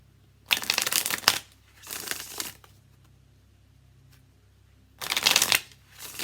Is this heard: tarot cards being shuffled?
yes